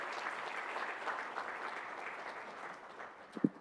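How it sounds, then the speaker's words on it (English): Audience applause for awardees at a management association's foundation day ceremony fills the hall as a steady, fairly soft wash of clapping, with one sharper thump near the end. "May I request you all to please give a big round of applause one more time for all our distinguished"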